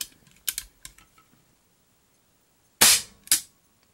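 Shots from a Crosman CO2 air pistol: two sharp, loud cracks in quick succession late on, preceded by faint small clicks of handling, close up with no talk.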